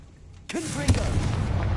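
A Confringo fire spell blasting in Hogwarts Legacy: after a quiet moment a sudden booming burst hits, followed by a second sharp impact and a rumbling tail, with a brief voice mixed in.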